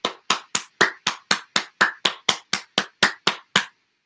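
Fourteen sharp, evenly spaced hand claps ring out one after another at a steady brisk rhythm, energetic and close, during a Reiki meditation session, then stop into silence.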